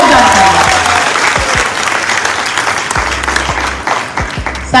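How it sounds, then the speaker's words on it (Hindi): A crowd at a speech event in Agra bursts into loud, energetic applause, a dense wash of clapping lasting several seconds, with some faint voices and low thumps mixed in. "मैं चाहती हूँ एक बार जोरदार ताली संजीव सर की, जोरदार ताली।"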